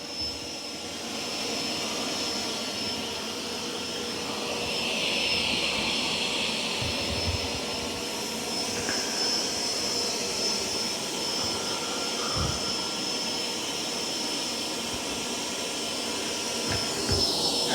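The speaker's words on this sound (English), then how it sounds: "Now we'll check auto empty and hair wrap." A Bissell FlexClean robot vacuum's dock auto-empties with a loud, steady whooshing roar that holds at constant strength for the whole stretch, with faint clicks and bumps beneath it and no talk.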